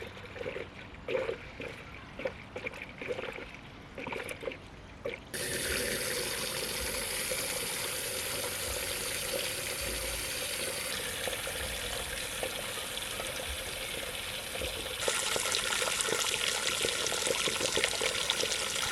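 Hose water runs steadily into a coolant fill bucket on a 1998 Mustang GT SN95 cooling system, a continuous rushing pour that grows louder and brighter partway through, with no voices.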